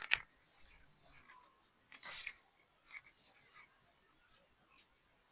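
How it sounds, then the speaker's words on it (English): A pecan tree branch cut off below an air layer: a few short, crisp snips from pruning shears, close and fairly quiet, spaced irregularly against a soft outdoor background. "And I'm going to cut this branch off. Let you see that as I cut it off."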